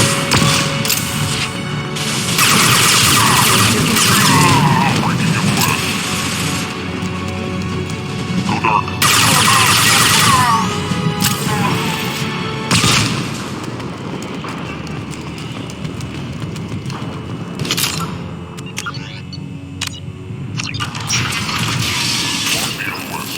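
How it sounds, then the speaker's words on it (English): Combat in Mass Effect 2: flashbang blasts and bursts of gunfire, loud and dense, with clattering impacts and crashes recurring throughout, mixed with game voices. "flashbangs!"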